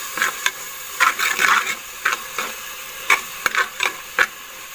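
Brinjal with garam masala stir-fried in a pan, with a soft sizzle under repeated irregular scrapes and clacks of a spoon against the pan, close and fairly loud.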